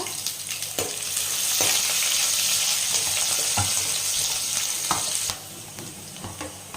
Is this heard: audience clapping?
no